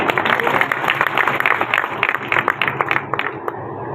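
Audience applause at a stage event, a bank's Digital India festival gathering in Bhander: dense, steady clapping from a crowd that thins out toward the end, with faint voices underneath.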